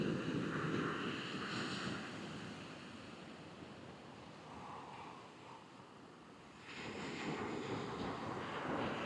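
A DJI Neo drone flies over water. Its whine is loudest at the start, fades to a distant drone behind wind and surf, then swells again as it sweeps back close.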